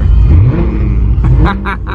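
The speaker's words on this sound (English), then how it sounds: "Just revving the car." A Mercedes-AMG GT R's engine rumbles loud and close at idle, with a few short throttle blips near the end.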